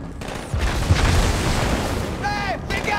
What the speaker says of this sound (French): Grenade, bougez.